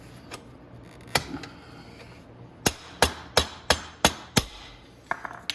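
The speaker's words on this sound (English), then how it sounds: "just tap the axle through so it catches that spacer." Sharp metallic hammer taps driving the rear axle of a Venom X22 125cc motorcycle through, a few scattered then a steady run of about six even strikes, close and fairly loud, with softer clinks at the end.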